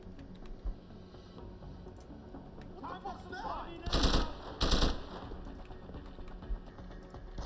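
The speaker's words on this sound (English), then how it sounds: "I don't like how this gun sounds" In Deus Ex: Human Revolution, a gun fires in two sharp, loud bursts close together over quiet game ambience and background speech, with metallic clinks nearby.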